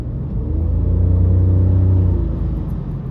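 A 10th-generation Honda Civic driving on roads after rain, heard from inside the cabin with the windows closed as a loud, steady low engine and road rumble that swells briefly and then eases, with no talking.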